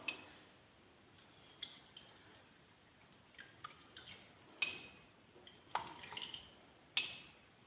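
Four ladles of ordinary cooking oil poured for a no-knead, eggless homemade bread, heard as faint, scattered drips and soft liquid splashes with a few light clinks in a quiet kitchen.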